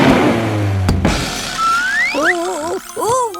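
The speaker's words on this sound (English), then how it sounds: "Let's have a nice loud rev." A cartoon excavator's engine is revved in a garage with a low rumbling hum, then springy, rising and wobbling cartoon boings and whirs.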